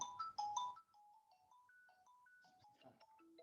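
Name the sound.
telephone ringtone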